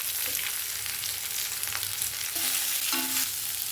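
Sliced medium onion and a lengthwise-slit green chili fry in a pan with a steady, close sizzle, broken by a few light stirring clinks.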